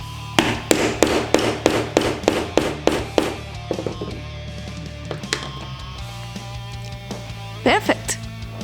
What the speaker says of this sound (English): A good old hammer, oh yeah,